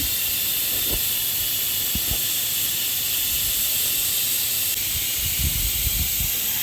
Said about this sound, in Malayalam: ഒരു വിസിൽ പോയിട്ടോ